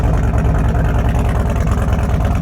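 A custom Indian Sport Chief motorcycle engine runs close by with a loud, deep, throbbing rumble, a steady low pulsing idle that fills the short stretch without any speech.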